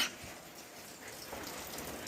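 Steady hiss of heavy monsoon rain falling, a soft continuous wash of drops with no voices, fairly quiet and even throughout.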